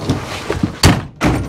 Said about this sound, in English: I gotta slam the door.